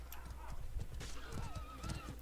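Horse in a large 20 versus 20 clan battle video game, with rapid hoof clatter and a neigh rising over the busy background of the fight, mixed with faint voices.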